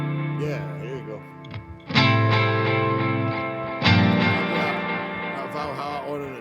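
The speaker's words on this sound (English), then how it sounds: "I'm going to put on a big reverb" Music through a Valhalla reverb plugin with a lush, long reverb tail, sustained chords swelling and washing into a spacious echo, with fresh hits at about two and four seconds.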